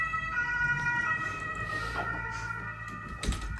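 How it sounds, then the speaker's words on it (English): Emergency sirens from ambulances and police cars wail steadily throughout, their sustained tones running under continuous low street rumble, with a brief louder burst near the end. "Ambulances and police cars."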